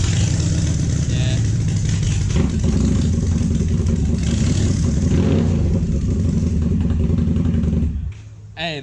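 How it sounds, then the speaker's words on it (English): A motorcycle fitted with a Two Brothers Shorty full-system exhaust roars loudly and continuously with a harsh, raspy tone, its revs swelling and easing, then cuts off sharply near the end; a voice speaks briefly. "the Twin Brothers Shorty exhaust, full system exhaust"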